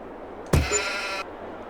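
Sheep in the Farming Simulator 22 game let out a single loud, drawn-out bleat lasting under a second, close and clear against a quiet background.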